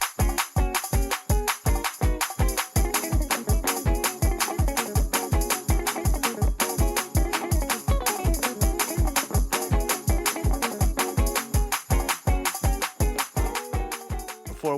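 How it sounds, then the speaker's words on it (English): Fast gospel praise break, or shout, played on keyboard: a driving, relentless stream of rhythmic chord stabs over pounding bass hits, loud and busy throughout with no talking. "you are going to learn how to play a gospel praise break"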